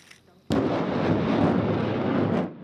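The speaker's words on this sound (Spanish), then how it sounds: "Tras la primera prueba de disparo de este lanzacohetes estadounidense en mayo" An American-made rocket launcher test-fires in Taiwan: after a quiet moment, a sudden loud blast swells into a roaring rush for about two seconds before cutting off.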